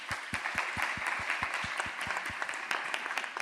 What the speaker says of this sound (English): can we give them a big round of applause for their bravery?